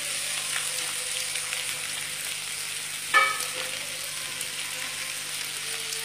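Chopped onion, chilli and garlic frying in hot ghee in a pan, a soft continuous sizzle with a short louder clatter near the middle.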